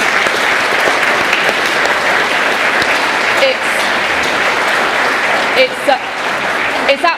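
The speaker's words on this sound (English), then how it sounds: "So just a round of applause for the organisers." Audience at a political meeting applauding, loud continuous clapping from a full room, steady and even, with a few brief louder shouts or cheers near the end.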